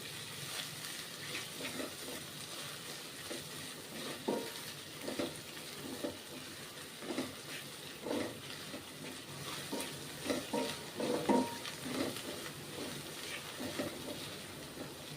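Spices tempering in oil for thecha make a soft, steady sizzle, with irregular scraping stirs from a spoon in the pan and no voices.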